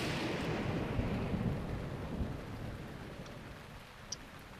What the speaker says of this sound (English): But it's not going to stop raining, that's for sure.